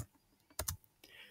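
A few quick keystrokes on a computer keyboard while an email is typed, a short cluster of close, soft clicks with quiet pauses around them.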